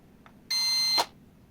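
A mini drone's controller gives a single sustained electronic beep lasting about half a second, preceded by a faint short blip, in an otherwise quiet room.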